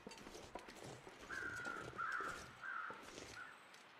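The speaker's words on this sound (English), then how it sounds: "Crows." Crows cawing in the snowy wilderness of The Long Dark, a few faint, distant harsh calls in a loose sequence over low wind and ambient noise.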